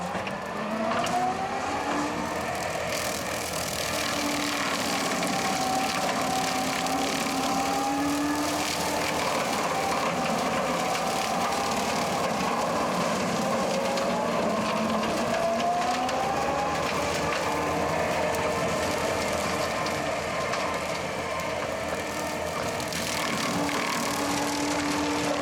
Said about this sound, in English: We've been mowing a lot of saplings here